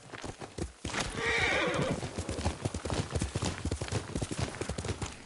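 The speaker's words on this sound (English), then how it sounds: "Yuriko's horse. She can't be far." A horse in a PS4 video game clip-clops steadily and close by, with a brief whinny early on and the hoofbeats continuing in an even rhythm throughout.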